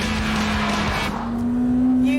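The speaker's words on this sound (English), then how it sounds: "Under that bonnet is a 2-litre VTEC engine with 197 brake horsepower that just needs to be set free." Honda Type R with a 2-litre VTEC engine racing on track: a loud, sustained engine note holding steady and rising in pitch as it revs, with a faint tyre squeal.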